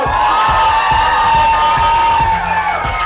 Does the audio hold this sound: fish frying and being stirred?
no